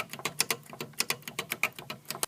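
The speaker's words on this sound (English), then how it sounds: "these bushings dry out and become hard and brittle, which creates a lot of noise when you press the keys" Keys with dried-out, hardened bushings on a CAT synthesizer with a Pratt & Read keyboard clack noisily, a rapid irregular series of sharp clicks and knocks, close and alone.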